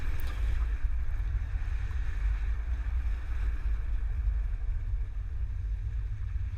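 Car carrying a Hollywood Racks Destination 4-bike rack driving through slalom cones on a test course: a steady, loud low rumble of road and wind noise with no talking.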